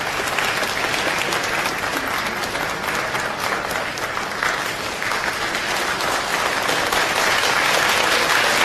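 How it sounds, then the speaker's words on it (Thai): Sustained applause from a large crowd at a political party event, steady and loud throughout with no pauses. "ขอเสียงปรบมือครับ"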